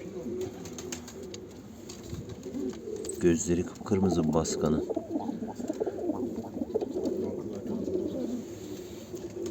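Pigeons cooing close by, low throaty warbles rising and falling, with a person speaking briefly over them.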